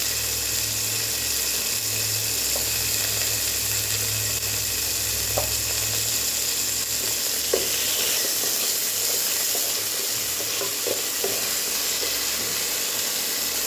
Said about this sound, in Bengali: এবারে আমি ডাটা পাতা এর মধ্যে দিয়ে দিলাম, একটু কষিয়ে নিয়ে